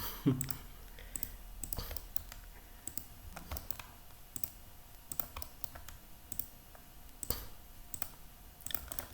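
Mouse buttons clicking while drawing in LibreCAD, scattered sharp single clicks at an irregular pace, close and quiet against a faint room background.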